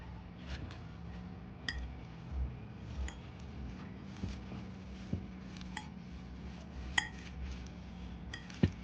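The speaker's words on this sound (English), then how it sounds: "We'll mix this well." Citrus green salad with balsamic dressing tossed in a bowl, giving sparse, light clinks and taps of utensils against the dish over a soft steady background with no talking.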